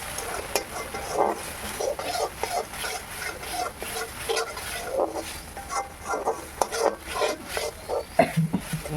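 A spatula stirs spiced rohu fish curry with turmeric and a little sugar in a pan, making irregular scraping strokes over a light sizzle, close and moderately loud, with no talking.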